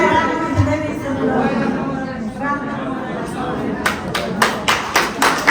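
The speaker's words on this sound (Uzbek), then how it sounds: "Ana bu chiroyli olqishlar sizni chiroyli izhorlaringiz, chiroyli tabriklaringiz uchun bo'ldi" At a school reunion celebrating 45 years since graduation, a crowd murmurs and chatters, then sharp, loud hand claps break out in a clear rhythmic run near the end, close and distinct above the voices.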